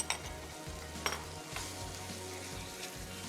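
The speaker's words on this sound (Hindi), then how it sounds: "अच्छे से मसाले के साथ आपने भूनना है चिकन मिंस को" Chicken mince frying with spices in a pan for white biryani: a steady, soft sizzle with occasional stirring scrapes and light clinks, heard alone.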